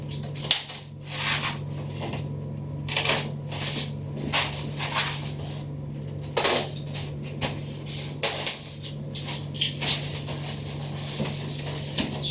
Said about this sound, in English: I'm gonna cut the tape